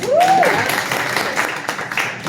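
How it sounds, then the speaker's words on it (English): Audience applause at a live show: a short burst of clapping from a crowd, loud at first and steady throughout, with a brief whistle at the start. "Give a round of applause."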